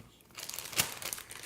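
A plastic bag holding fondant crinkles and rustles as it is handled, a brief close-up crackle with one sharper crunch midway.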